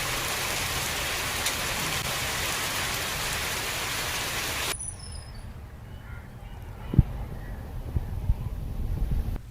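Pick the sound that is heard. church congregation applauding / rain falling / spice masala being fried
rain falling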